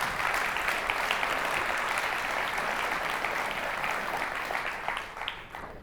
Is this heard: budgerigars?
no